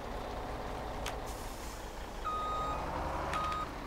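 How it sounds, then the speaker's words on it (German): Truck reversing in the farming game Landwirtschafts-Simulator 17, a steady engine rumble under a series of high electronic reversing beeps, a short run of tones then another near the end. "Und jetzt fahre ich ihn hier mal ein bisschen rückwärts."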